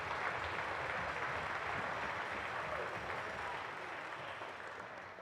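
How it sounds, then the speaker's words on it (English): A large crowd at the Coal Bowl 2024 closing ceremonies claps for volunteer groups, a broad continuous roll of applause heard from a distance that eases slightly toward the end. "Please recognize these groups with your applause"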